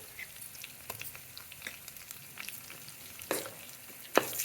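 Spices tempering in hot oil for a leafy curry of curry leaves and fenugreek greens, a soft steady sizzle and crackle with a few sharper pops and spits, quiet and close, with no talking.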